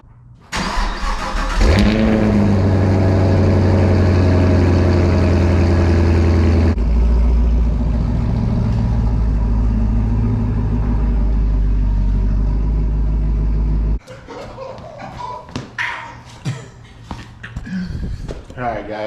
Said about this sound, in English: Hopefully y'all enjoyed that cold start.